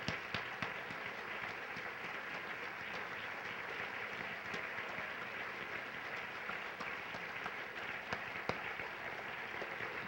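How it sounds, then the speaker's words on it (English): An audience at the 2012 Common Ground Awards Show applauds in a dense, steady patter of many hands that lasts throughout, soft and slightly distant. "Let's give them a magnificent round of applause."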